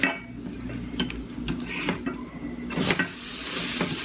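French toast turned over on a small oblong cast iron griddle, with scraping spatula clinks and knocks over a low sizzle, several sharp metallic taps spread across the moment.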